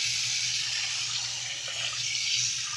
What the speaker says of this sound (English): You get some water. Put some water in there.